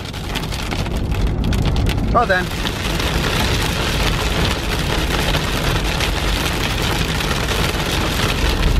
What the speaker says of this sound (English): The rain got hard.